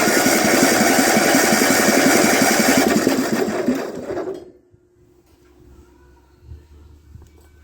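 The engine of a 1948 Ford 8N tractor runs loud and steady on all four cylinders with a close, chugging drone, then winds down and stops, leaving a faint low hum and light rattles.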